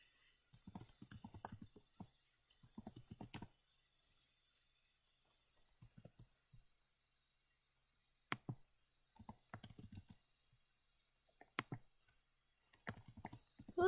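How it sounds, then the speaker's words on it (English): Typing on a computer keyboard during sushi restaurant training comes in irregular bursts of quiet clicks and taps separated by pauses, close by and fairly soft, with no talking. "Why am I typing this?"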